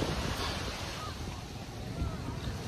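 Sea waves wash continuously along Talisay Boulevard beach in San Jose, Camarines Sur, Philippines, a steady broadband surf roar mixed with buffeting wind on the microphone throughout.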